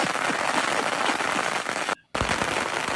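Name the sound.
July 4th fireworks and firecrackers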